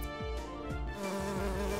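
Buzzing of Beezle, a bee creature in the video game Coromon: a steady insect-like drone with repeated swooping tones, loud and continuous with no talking.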